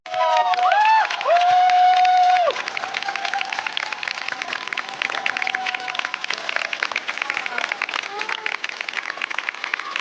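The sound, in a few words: audience applause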